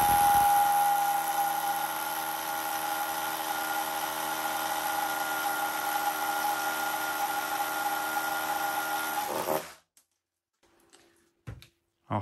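A Bosch UniversalHammer 18V cordless hammer drill boring into concrete with a 20 mm bit, giving a loud, steady high-pitched whirring grind for about ten seconds before stopping abruptly, followed by a few faint clicks.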